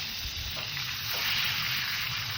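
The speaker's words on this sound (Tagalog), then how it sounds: "Siguraduhin nyo lang mainit na yung mantika bago nyo ilagay yung bangus para hindi dumikit." Milkfish (bangus) frying in hot oil gives a steady, close, dense sizzle and crackle throughout, with soft low stirring or pan sounds underneath and no talk.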